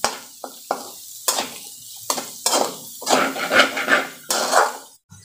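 Vegetables stir-fried in a pan for chicken fried rice, heard as bursts of sizzling with scraping stirs in an uneven rhythm, close and fairly loud with short quiet gaps.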